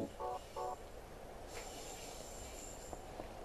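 Train carriage interior in the Silent Hill 3 video game, a steady low rumble of a moving train heard from inside, with a few short tonal beeps at the start and faint clanks later.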